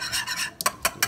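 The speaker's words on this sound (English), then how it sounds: "Whisk that around." Whisk strokes through strawberry cassata cake batter in a bowl: a soft, steady swishing scrape at first, then three sharper metallic taps of the whisk against the bowl rim, close and clear with no talking.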